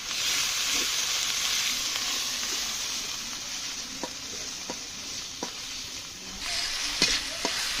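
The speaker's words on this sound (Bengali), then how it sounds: "মশলাটা সুন্দর করে কষিয়ে নিতে হবে।" Garlic, ginger and cumin paste sautéing in oil for a tilapia fish curry with coconut milk, a bright sizzle that fades slightly then flares again, punctuated by several crisp spoon taps against the pan, no talking.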